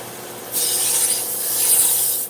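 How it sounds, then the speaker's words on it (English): A custom kitchen knife is drawn across a sharpener in one steady rasping stroke of about two seconds, close and fairly loud, with no voices. "While I'm sharpening, I'm also making sure that it's straight and flat, because this one's going to be used on a cutting board."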